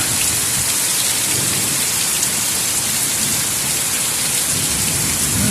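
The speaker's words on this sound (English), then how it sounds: "We are getting a really good down rain now here on Sunday morning" Heavy rain pours down on a Sunday morning in a garden with tomato plants, a loud, dense, unbroken hiss of drops hitting surfaces close by.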